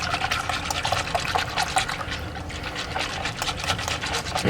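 Half and half pours steadily into a bowl of whisked egg yolks for pudding, a continuous close liquid splashing and trickling with no talk.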